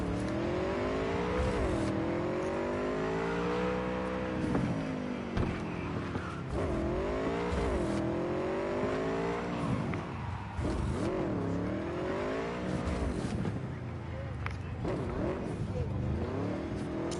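A motorcycle ridden through the streets in Cyberpunk, its engine revving up and down in repeated surges with a steady whirring drone, close and continuous, with speech heard over it.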